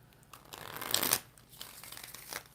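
A deck of tarot cards being shuffled up close, one riffle-like burst of papery rustle building to a sharp crisp peak, then lighter card flicks and shuffling afterward.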